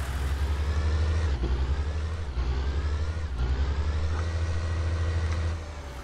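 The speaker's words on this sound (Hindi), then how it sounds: "तो भाई ये है फोर्ड का ट्रैक्टर" A Ford tractor engine idles in Farming Simulator 19, giving a steady, loud, low droning rumble that stays even for several seconds and drops slightly at the end, with no talk over it.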